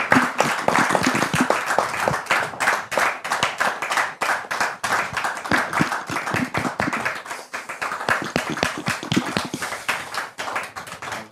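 A studio audience claps to welcome a pastor onto a talk show, many distinct hand claps landing in a quick, roughly rhythmic stream at moderate loudness and close range.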